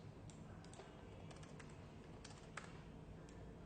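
Numbers are typed into an Excel spreadsheet on a computer keyboard, a faint, irregular patter of small key clicks over steady background hiss.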